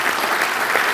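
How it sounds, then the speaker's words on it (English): Audience applause fills a Touchdown Club meeting room, a dense, even wash of many hands clapping at once, loud and close with no voices above it. "let's give a round of applause to that."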